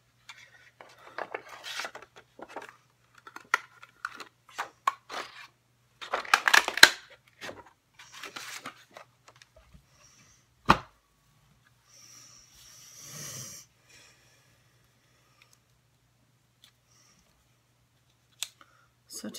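Scissors snip Whisper White cardstock at a craft table in a run of close, crisp cuts and paper rustles, with a few louder clacks and pauses between bursts.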